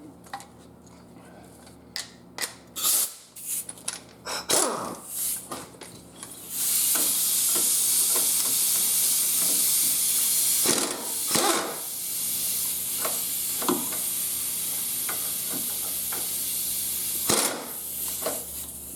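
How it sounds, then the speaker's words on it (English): WD-40 is sprayed onto the strut bolts of a Cadillac Escalade in several hissing bursts between clicks and metallic taps, with one long continuous spray in the middle, close and moderately loud. "we just want to put a little WD-40 on those bolts because they've been under the weather there."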